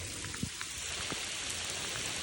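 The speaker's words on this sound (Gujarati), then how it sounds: "વરસાદ ચાલુ છે ફૂલ." Steady rain falls outdoors, a constant close hiss of drops striking surfaces with a few distinct taps near the start.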